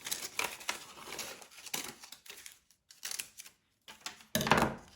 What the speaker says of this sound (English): I can always cut it smaller, but I'm going to go ahead and cut that out.